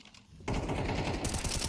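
Dense bursts of automatic gunfire from a Counter-Strike 2 wall bang, rapid rattling shots starting abruptly after a quiet moment and continuing loud and sustained.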